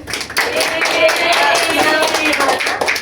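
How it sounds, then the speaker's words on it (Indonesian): A small audience in a classroom claps together, a close burst of irregular hand claps filling most of the clip, with some voices mixed in. "Ya, jawabannya Mbak Juli betul ya, kasih tepuk tangan."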